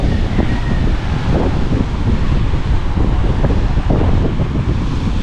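Strong seaside wind buffets the microphone beside a dark sea with big waves, a loud continuous roaring rumble with no pause and no voices.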